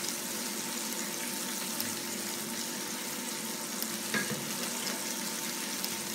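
Magret de canard frying gently in a pan and basted with its own rendered fat, a steady soft sizzle that holds constant throughout, close and moderately quiet, with one small clink partway through.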